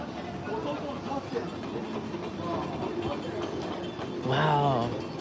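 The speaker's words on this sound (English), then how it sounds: "I think the couple other express trains go through here too, right?" Overhead train rumbling along the elevated tracks above Ameyoko Market in Tokyo, a steady busy-street din with voices, ending in a louder brake screech.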